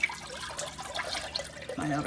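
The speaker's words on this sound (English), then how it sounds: "I'm going to pour in my stock in my Instant Pot" Stock, chicken or vegetable, poured into an Instant Pot for a cabbage chickpea soup, a soft close splashing trickle that runs steadily for about two seconds, faint and without talk.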